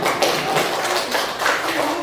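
A classroom of students gives a short burst of hand clapping at the end of a quiz, the claps quick, close and uneven, with no talking.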